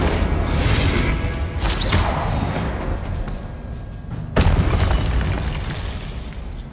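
Fiery Incendio spell blasts from Hogwarts Legacy combat, a dense roaring burst that swells, dips, then erupts again with a sharp whooshing boom around the middle before rumbling on loudly.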